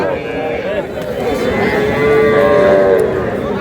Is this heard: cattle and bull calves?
yes